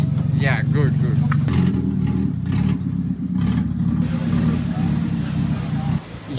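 A Mitsubishi Lancer 1.8 4G93 engine runs with its manifold removed, giving a rough, clattering idle with a brief rise in revs, heard under someone talking over it.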